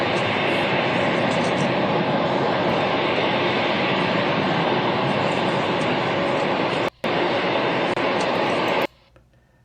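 An airplane passes near Air Force One with a loud, steady, roaring engine rush that holds for several seconds, then cuts off abruptly near the end.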